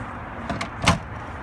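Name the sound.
camper door being opened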